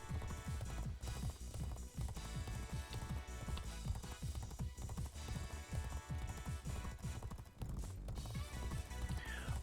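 Galloping horse hooves in the PS2 horse racing game G1 Jockey 4, a steady rapid drumming of thuds beating throughout under a layer of game music and crowd noise.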